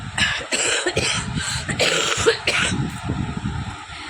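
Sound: person coughing

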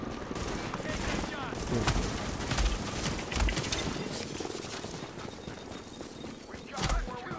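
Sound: gunfire in a video game

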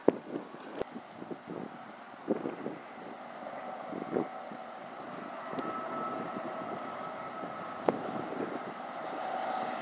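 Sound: high wind blowing

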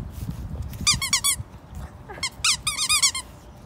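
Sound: dog squeaking a squeaky toy

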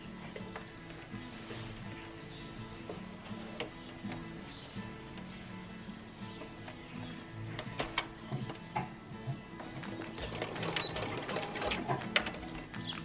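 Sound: sewing machine quilting a zigzag pattern

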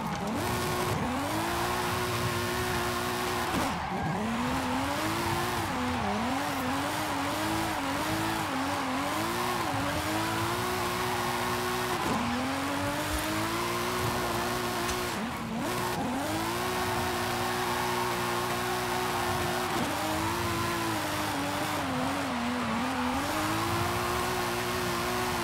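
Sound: BMW M3 2005 drifting, engine and tire squeal, Forza Horizon 5 video game

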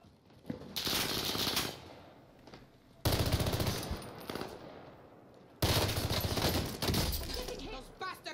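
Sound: gunfire in the video game Call of Duty: Warzone

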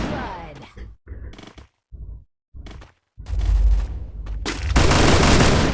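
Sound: gunfire in the video game Free Fire

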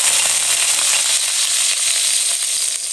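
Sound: scallions frying in hot oil

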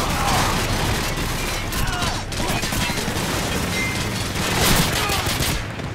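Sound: shotgun gunfire in Call of Duty 4 video game

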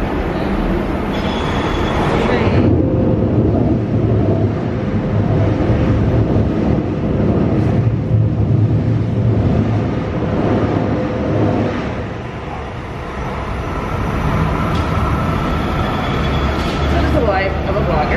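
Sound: train passing in New York City

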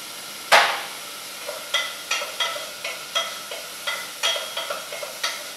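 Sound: sautéing onion and garlic in a pan

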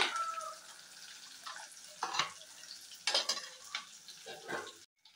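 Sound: garlic frying and being stirred in a pan

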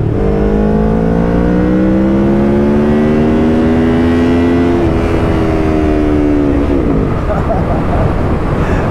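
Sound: Kawasaki Ninja 650 motorcycle accelerating hard in second gear

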